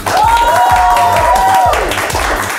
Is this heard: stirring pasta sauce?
no